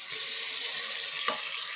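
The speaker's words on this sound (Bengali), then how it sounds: "ম্যারিনেট করা গোস্তটা আমি এখন দিয়ে দিব" Marinated meat hits a hot pot for biryani, throwing off a loud, continuous close sizzle with one sharp clunk partway through.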